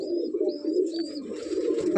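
Soft, low cooing of an Allahabadi Kaldum pigeon rolls on continuously, close by, with faint higher bird chirps scattered above it.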